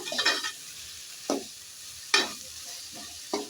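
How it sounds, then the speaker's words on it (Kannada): Coriander is being stirred into a bread toast filling in a pan. A few scraping, stirring strokes are separated by short pauses, with a faint sizzle underneath and no talking. "ನೀಟಾಗಿ ಮಿಕ್ಸ್ ಮಾಡ್ಕೊಳ್ಳೋಣ"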